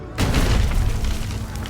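A single heavy boom from a medieval cannon hits suddenly and then lingers as a dense, rumbling roar that fills the rest of the short moment.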